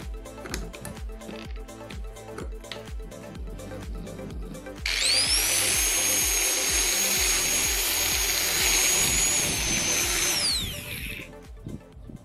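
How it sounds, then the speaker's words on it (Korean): A disc tool fitted with plastic tie wraps trims grass as a mini mower, spinning up into a loud, steady high-pitched whine for about six seconds before winding down, preceded by rhythmic tapping and clicking. "잔디를 다듬는 미니 잔디깎기를 얻을 수 있습니다."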